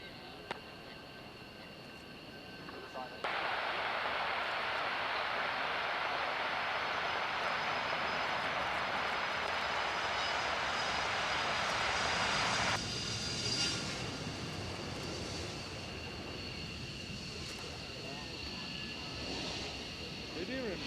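A Eurofighter Typhoon jet arrives at an airshow at the Royal International Air Tattoo, a loud broadband roar that starts abruptly, holds for about ten seconds, then fades into a distant whine while a radio voice talks.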